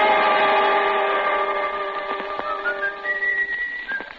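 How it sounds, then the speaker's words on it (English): A sustained whistled melody with steady held tones that shift pitch near the end, fairly clear over a faint background hum. "And then I heard the whistling."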